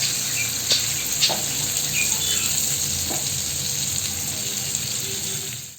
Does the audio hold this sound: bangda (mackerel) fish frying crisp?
yes